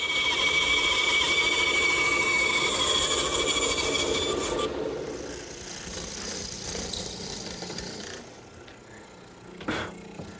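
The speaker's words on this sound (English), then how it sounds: "Here I'm just making a cut at the top of the tenon, down about 3/8 of an inch" Hand saw rasping through wood to cut the top of a tenon on a part for a garden armchair, a steady close back-and-forth sawing for about five seconds, then quieter scraping and handling with a brief knock near the end.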